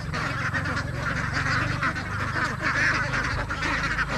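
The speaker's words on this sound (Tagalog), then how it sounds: "yung mga itik nila dito" Farmyard ducks quacking and honking together nearby, a dense continuous chorus of overlapping calls filling the whole stretch at steady volume.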